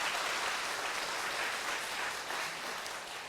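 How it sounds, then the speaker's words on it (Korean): A church congregation applauds at a worship service, a dense, continuous wash of clapping from many hands, loud and even throughout. "박수로 감사합니다."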